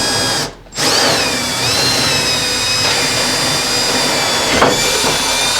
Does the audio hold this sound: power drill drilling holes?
yes